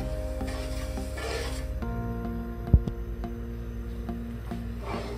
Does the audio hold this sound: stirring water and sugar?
yes